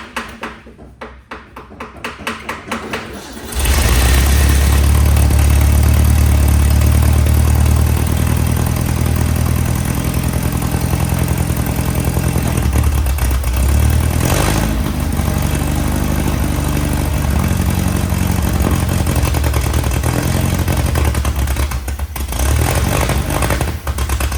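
Air-cooled engine of a 1961 VW Beetle barn find starts after a few seconds of handling noise and runs steadily close by, a loud continuous rumbling idle with clattery mechanical texture and brief dips in revs.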